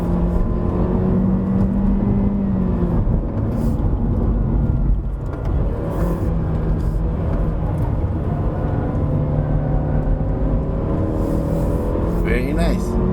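A 2020 Honda Civic 1.5 turbo climbing the Genting hillclimb, its engine droning loud and continuous with revs rising and falling through the bends, while a person talks over the cabin noise.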